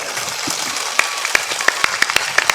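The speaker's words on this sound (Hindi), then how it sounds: "जोर से ताली बजाइए।" An audience at a devotional discourse claps, with a dense wash of applause punctuated by sharp, distinct individual claps at a steady rhythm, moderately loud and without talk.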